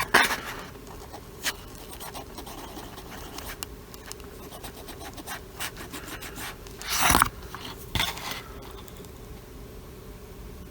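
Quick rubbing and scratching of a cloth or swab soaked in IPA across the markings on a small QFP chip, close and fairly quiet, with faint scrapes throughout and a couple of louder rubbing bursts near the end.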